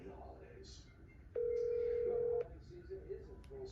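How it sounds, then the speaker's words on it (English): A new iPhone 12 Pro Max places an outgoing call, sounding a steady ringback tone for about a second, then softer tones, with someone talking quietly in the background. "Now see if I can make a phone call now."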